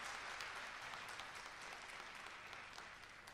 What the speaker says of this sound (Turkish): Hasret'i alkışlıyoruz